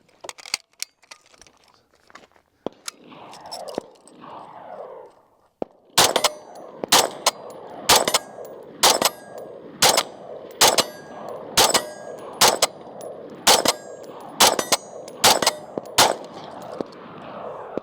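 An original Armalite AR-180 rifle empties a magazine outdoors in a steady string of loud, sharp shots about half a second apart, each with a ringing metallic tail. A few faint clicks and handling noises come first.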